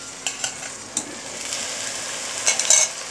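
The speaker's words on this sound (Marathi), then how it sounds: "आता ह्या फ्लावरला पण आपल्याला 5 मिनिटं व्यवस्थित परतवून घ्यायचं आहे" Cauliflower and capsicum sauté in a pan for makhani pav bhaji, with a steady close sizzle and several sharp spatula stirs and scrapes against the pan.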